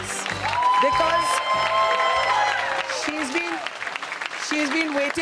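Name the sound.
audience applause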